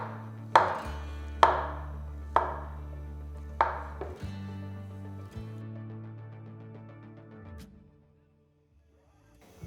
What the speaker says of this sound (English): I have taken 400 grams of fresh mushrooms, cut them into slices.